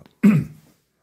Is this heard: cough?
yes